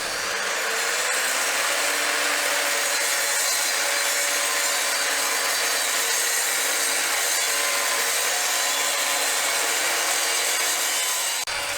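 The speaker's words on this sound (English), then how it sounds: "So got this piece of composite decking, and we'll try cutting that next" An Evolution R255SMS mitre saw cuts through a piece of composite decking with a loud, continuous, close-up rasping whine that holds steady for about twelve seconds before cutting off abruptly.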